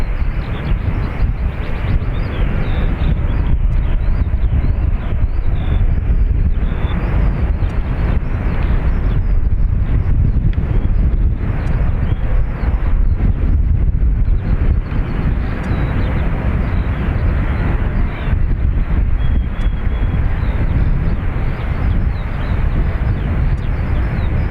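A Ryanair jet, flight FR211 to Stansted, departs Dublin Airport with a loud, steady engine roar that fills the whole stretch, along with wind buffeting the microphone, and no voices.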